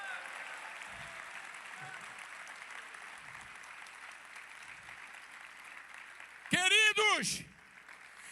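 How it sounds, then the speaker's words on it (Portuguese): A church congregation in Porto Alegre applauds, a broad, sustained patter of many hands heard somewhat distant, before a voice breaks in loudly near the end. "Quem quer aplaudir o Senhor Deus?"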